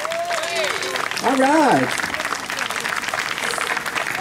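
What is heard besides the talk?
audience applause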